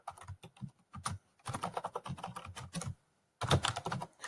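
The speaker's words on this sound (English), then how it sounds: "so I'm just going to type this right now." Keys on a computer keyboard clack in quick bursts of typing close by, with short pauses between runs and one clear gap before a final flurry.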